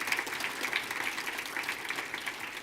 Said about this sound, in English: Can I get a round of applause for Paul as well?